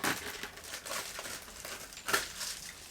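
Plastic vapor barrier sheet being cut along a marked line on a van subfloor, giving a continuous close crinkling and rustling with a sharper crackle partway through, no voices.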